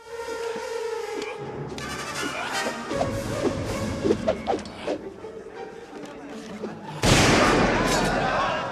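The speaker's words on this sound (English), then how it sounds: "Harrison Ford casually shoots the blade-wielding enemy in the middle of the city" In a Raiders of the Lost Ark city street scene, Harrison Ford's character shoots a blade-wielding swordsman: music and scattered effects build, then one sharp, loud gunshot blast rings out near the end.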